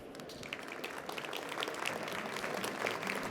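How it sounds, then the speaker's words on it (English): Steady, dense applause from a conference audience for a speaker, continuous and fairly even throughout with no talking over it. "Let's give a huge round of applause to Mr. Kamemoto."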